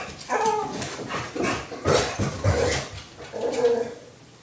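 A dog makes low, rumbling growls mixed with whiny vocal sounds in several bursts, close by and fairly loud, with no talking.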